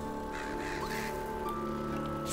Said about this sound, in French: Voilà, il est là, mon corbac.